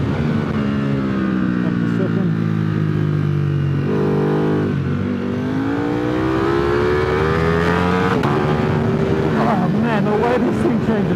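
A Ducati Superleggera V4 sport motorcycle is ridden hard on a race track, its engine loud and close. It revs up and down through gear changes while a rider talks over it.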